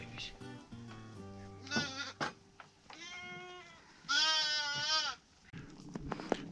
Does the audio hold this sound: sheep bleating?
yes